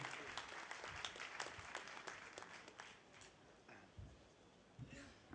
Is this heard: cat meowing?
no